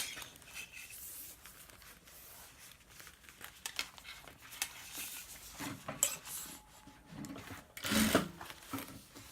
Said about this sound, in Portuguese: eu só vou prender o forro aqui com uma costura de segurança